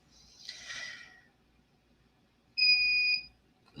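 A single shrill electronic beep rings out clearly after a soft rustling noise, brief and piercing against an otherwise quiet background.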